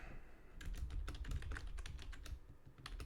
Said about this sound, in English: I have to type around my mic because I don't have it raised